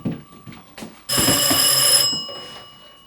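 A telephone rings on stage during a French amateur theatre play: one loud, sustained bell-like ring of about a second, heard close and clear, with faint murmured talk just before it.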